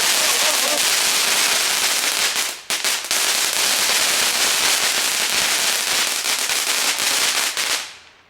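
Fireworks and firecrackers at a New Year 2021 show burst in a dense, loud, continuous crackle of rapid pops, with a short lull partway through before the barrage resumes and then fades out at the end.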